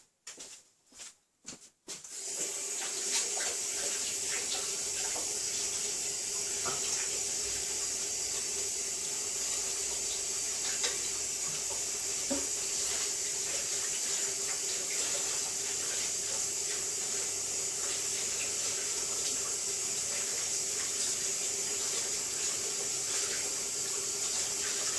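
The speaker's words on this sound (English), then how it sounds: "I'm just going to give this a quick rinse" Tap water running into a sink to rinse embossing paste off fingers: a few splashy bursts, then a continuous, close, steady hiss of flowing water with no speech.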